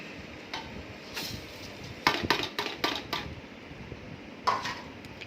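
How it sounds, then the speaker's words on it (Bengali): Rice with ghee, cashews and raisins being stirred in a big pot brings a few sharp metallic clinks and scrapes of a spoon on the pot over a low background hum. "চালটাকে ঘি, কাজু, কিশমিশ এর মধ্যে ভালো করে একটু নাড়িয়ে চাড়িয়ে নেব"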